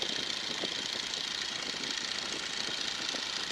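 A Stearman N2S-3 biplane's radial engine drones steadily at about 1,800 RPM in flight, a constant rough hum with wind rush and no talk.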